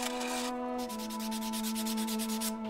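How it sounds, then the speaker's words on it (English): Hand sanding the unhardened tang and hilt of a forged sword, producing quick close rasping strokes in a steady rhythm, pausing briefly once, over a constant electrical hum. "Hand sanding the hilt is the last step before accomplishing a major milestone in the project."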